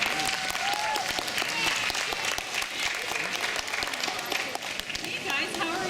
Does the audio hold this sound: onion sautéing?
no